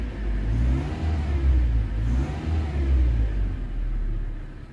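Car engine fitted with a coil booster for ignition, revving in a steady low rumble that rises and falls in a couple of swells, close by with no talk.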